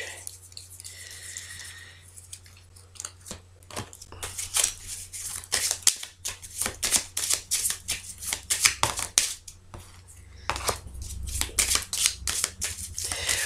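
Tarot cards are shuffled and handled in a series of quick, crisp riffling and slapping bursts, close and fairly quiet, with short pauses between them.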